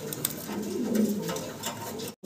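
A pair of English Carrier Homer pigeons coos softly and close by, a low rolling coo rising and fading over faint background noise.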